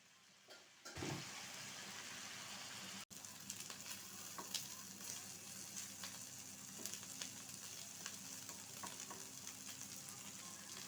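Constant crackling sizzle of fish frying in hot oil, with scattered pops and a brief clunk early on; no talking.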